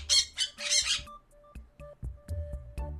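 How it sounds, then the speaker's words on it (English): A parrot gives two loud, harsh squawks in quick succession, then quieter clicks and knocking sounds follow at an irregular pace. "Parrot."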